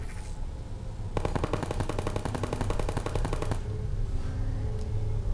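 Turret gunfire in the Portal video game, a rapid machine-gun burst lasting a couple of seconds over low game ambience, with quieter background hum before and after.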